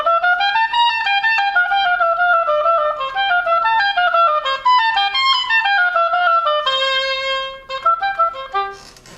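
An oboe plays a phrase from Etude A, a flowing legato line of rising and falling notes with a long held note near the end, clear and close with no talking.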